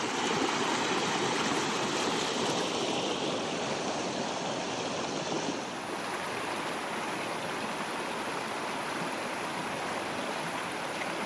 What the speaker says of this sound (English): crossing waist deep through a cold river